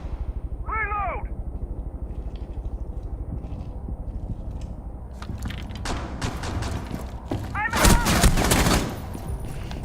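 Gunfire during an esports video game match: steady rapid shooting that grows into dense, loud volleys near the end, with voices talking over the action.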